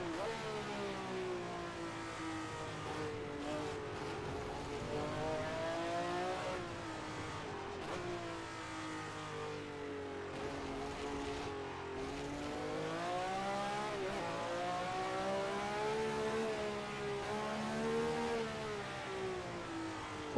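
A Ferrari race car engine in the Assetto Corsa racing game on the 1967 Nürburgring layout revs and shifts continuously, rising and falling in pitch with brief tire squeal, steady and prominent throughout.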